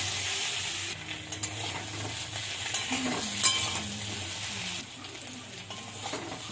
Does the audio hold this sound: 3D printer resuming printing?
no